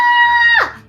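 A human voice imitates a goat scream with a single loud, strained, nasal bleat that holds steady for about half a second, then drops sharply and breaks off.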